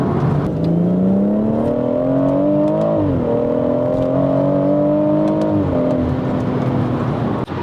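A car cruising on the motorway with a steady, loud engine drone that climbs in pitch as it revs, dips briefly at a gear change, then climbs again, heard close from inside.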